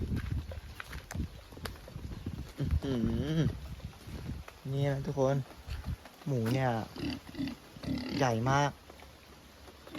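A pet pig grunts repeatedly and loudly up close in an outdoor yard after rain. Low rumbly grunts come in clusters under a steady background hiss.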